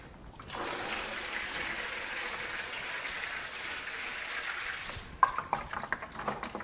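Steady stream of water poured from a watering can into a tray of arugula microgreens for bottom watering, a continuous close splashing flow for about four seconds that stops, followed by a few soft drips and handling knocks.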